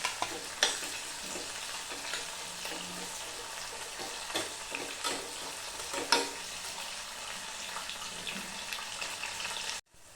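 Finely chopped onion fries in oil until reddish for masale bhaat, giving a steady close sizzle with occasional stirring taps. It cuts off abruptly near the end, and no one speaks.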